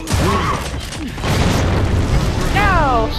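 A grenade goes off in the video game Gears of War 3 with a loud, low boom and rumbling debris. Voices speak over and around the blast.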